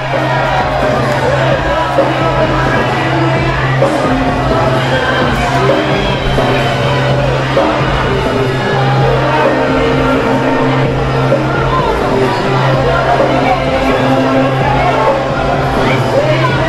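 A sold-out independent wrestling crowd at a Superkick'd show cheers Bruce James's surprise small-package win, a dense, loud roar of whoops, yells and babble that holds steady throughout, with a faint low hum running underneath.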